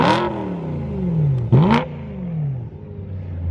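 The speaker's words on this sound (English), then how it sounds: "Let's get some revving clips for this M3." A BMW M3 fitted with a Valvetronic exhaust revs hard and close, with two sharp throttle blips that rise and fall, the second one louder, then settle back to a low idle.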